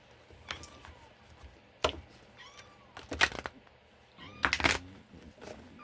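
A house cat named Stormy gives several short meows and chirps scattered across a few seconds, close and fairly quiet, with sharp clicking and tapping sounds in between.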